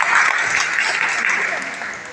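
A crowd at a business talk gives a big round of applause for a teacher and mentor, thick, even clapping that gradually tapers in volume.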